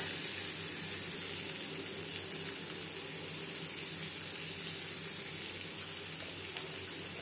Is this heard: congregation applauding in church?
no